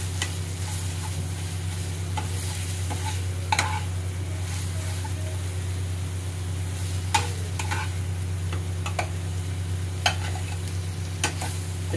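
Pomfret pieces being mixed by hand with masala, salt and sugar in a bowl, giving soft steady squelching and stirring over a constant low hum, with a few sharper clicks and taps scattered throughout.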